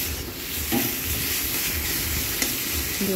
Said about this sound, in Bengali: ধনেপাতা দিয়ে আবার কিছুক্ষণের জন্য নেড়ে চেড়ে দিচ্ছি।